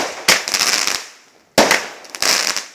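Two loud bursts of New Year fireworks, each a sharp bang followed by dense crackling that fades, separated by a short lull.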